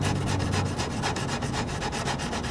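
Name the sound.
sandpaper rubbing on carbon fiber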